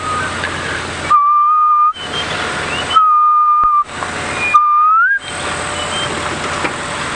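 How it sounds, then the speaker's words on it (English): A clear, sustained whistled bird call from high in a knob thorn tree repeats in three separated phrases, each a steady pure tone, one rising at the end, over a hissy outdoor background on a sunset safari drive. "a very distinct bird call for a very pretty bird"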